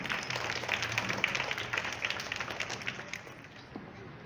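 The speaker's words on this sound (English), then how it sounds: "Give a huge round of applause for the class." School assembly audience giving a round of applause for a class, a dense patter of many hands that is fairly loud at first, then thins and fades toward the end.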